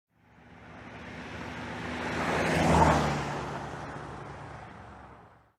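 A car passes by as a sound effect, a smooth roadway whoosh that rises gradually to a peak midway and fades away again, heard alone without voices.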